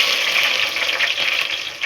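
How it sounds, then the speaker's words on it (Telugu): Steady, close sizzling hiss of chopped onion frying in hot oil, continuous with no voices. "ఇప్పుడు కట్ చేసిన ఆనియన్ని వేసుకోవాలి."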